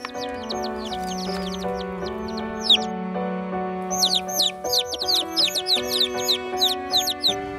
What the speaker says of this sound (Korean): 병아리 삑삑거리는 소리에 어미가 그 소리가 내 새끼라는 것을 기억을 해요.